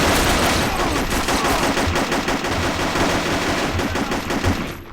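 A sustained, rapid burst of SMG fire in the shooter game Operation 7, loud and close, rattling continuously with no speech.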